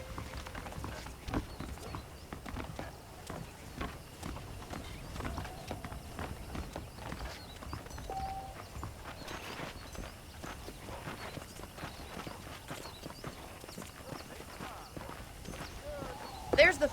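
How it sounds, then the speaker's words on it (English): Horse hooves clip-clop at a walking pace in the Red Dead Redemption video game, a steady run of light, close hoof strikes under game voices and ambient sound. "let's see if you can still ride a horse"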